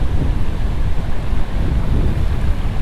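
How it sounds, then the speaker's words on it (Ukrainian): Strong wind buffeting the microphone beside reeds while fishing, a loud, gusty low roar that churns steadily without pause. "доволі сильний вітер у нас сьогодні"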